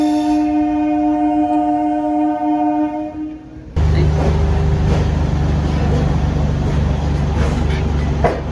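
Kakinada Port–Vijayawada MEMU Express train at a station, a loud sustained horn tone followed by the heavy rumble and roar of the train moving close by, with rhythmic rail clatter.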